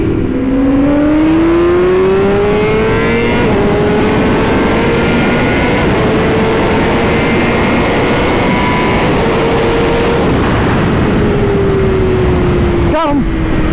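A BMW M 1000 RR superbike at full race pace gives a loud, close, sustained high-revving engine wail with rising and falling pitch as it overtakes, wind roar throughout and a brief bump near the end.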